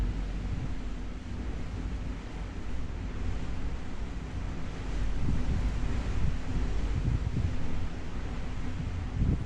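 Strong storm wind buffets the outside of a tent, a steady loud roar of low rumbling gusts that swells and surges midway, with no voices.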